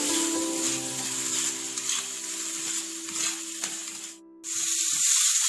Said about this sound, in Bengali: সবকিছু মিশিয়ে নিয়ে মশলাটা আরো 2 মিনিট মতো কষিয়ে নেব।